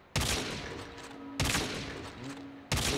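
Three loud gunshots from a one-on-one video game match fire at even intervals of roughly a second and a half, each sharp crack trailing into a long reverberant decay.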